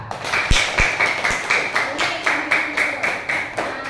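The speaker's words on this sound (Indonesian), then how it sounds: "Tepuk tangan untuk kelompoknya Mas Dafa" Students in a classroom clap in a steady, even rhythm for a group, about two claps per second, loud and close, after a brief scatter of uneven claps at the start.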